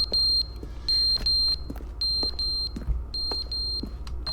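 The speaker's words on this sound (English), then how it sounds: "The button's beeping?" The button in the video game The Stanley Parable beeps in short, loud, high electronic bursts, repeated in a steady broken pattern over low background hum, with no talk.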